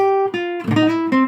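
A Mixolydian mode is played over a dominant 7 chord, a sustained bright tone with rich harmonics changing pitch in a few steps, near and clear, with no talking.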